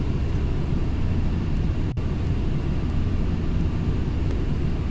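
Simulated fixed-wing airliner on final approach to runway 5L at about 144 knots in Flight Simulator X, a steady loud engine and wind drone holding evenly throughout, alone, with one brief dropout near the middle.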